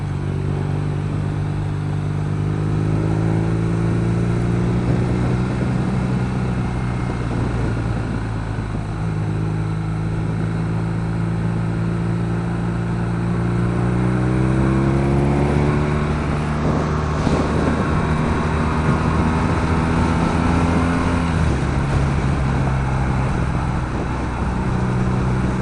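A 2016 BMW R nineT motorcycle on a test ride pulls steadily for the whole stretch, its engine note rising and dropping through shifts and ending in a sharp downshift as revs jump, with wind rushing past the microphone throughout.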